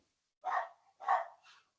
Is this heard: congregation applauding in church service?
no